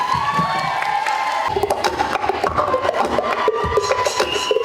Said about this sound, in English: Give a huge round of applause for them, please.